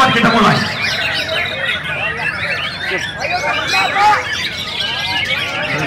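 White-rumped shama (murai batu) singing at a bird contest in Boyolali, a loud, rapid stream of varied whistles and chirps with other birds and crowd chatter behind it.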